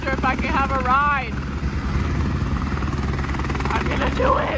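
A helicopter near a hiking trail, its rotor and engine giving a constant heavy drone, with a person talking loudly over it.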